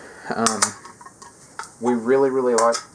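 Chopped sweet onion hits a hot pot for lasagna soup, making a soft sizzle and a clatter of stirring. A person's voice sounds over it at the start and again toward the end.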